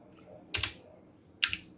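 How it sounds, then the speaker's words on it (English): Two short bursts of key clicks typed on a computer keyboard, close and crisp, separated by a brief quiet pause. "you can change it like by typing set"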